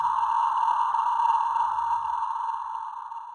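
A steady pitched tone from the Noises by Audiothing app, tuned with its pitch control, a single sustained hum-like note held loud and close that gently fades toward the end.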